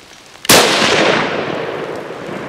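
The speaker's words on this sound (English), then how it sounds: "Shoot him again." A single rifle shot while hunting a red stag: one sharp, loud crack followed by a long rolling echo fading over two seconds outdoors.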